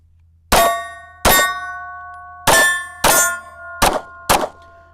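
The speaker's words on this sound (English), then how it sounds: "let's take some more shots downrange. I got 2 steel and 1 rubber target in the center there" Pistol shots from a PSA Micro Dagger ringing off two steel targets downrange: six sharp metallic clangs with bright sustained ringing tones, spaced irregularly across a few seconds, each loud and decaying quickly.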